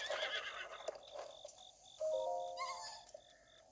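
A horse whinnies in The Legend of Zelda: Breath of the Wild, a loud nasal neigh up front, then a fainter second whinny over a game soundscape of crickets and a repeating high chirp.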